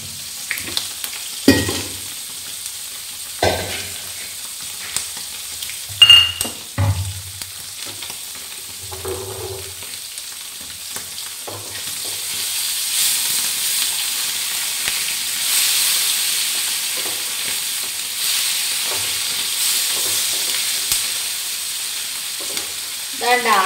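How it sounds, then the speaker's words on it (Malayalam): Fish fries in a pan in a home kitchen, giving a steady close sizzle that swells into a dense hiss. A few clanks and scrapes of stirring or handling come early on. "മീൻ വറുക്കുകയാണ്"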